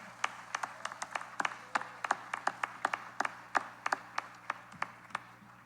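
A small press conference audience at the 2024 Memorial Cup event clapping, sparse individual hand claps ringing out one after another in an uneven rhythm, fairly quiet with room hum beneath.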